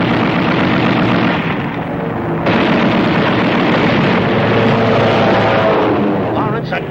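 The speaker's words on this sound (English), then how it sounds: "Start shooting, Lawrence." Dense gunfire and heavy explosions from a World War II bomber-crew TV drama roar without a break, loud and close, with booming blasts layered over constant rattling fire.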